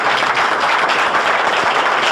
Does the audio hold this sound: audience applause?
yes